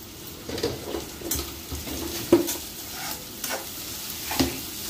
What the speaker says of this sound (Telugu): ఉల్లిపాయ లైట్ గా వేగిందండి